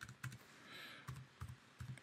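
Keys tapped on a computer keyboard in a few sparse, soft clicks, close but quiet, while a file is renamed; no talking.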